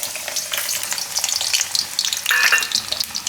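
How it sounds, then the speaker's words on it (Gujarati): Chopped garlic pieces sizzle and crackle steadily in hot oil in a home kitchen for Gujarati methi and sweet potato curry, a close, bright, continuous fry with a louder burst near the end and no talking. "તો તેલમાં પહેલાં આપણે આ લસણ નાખીશું."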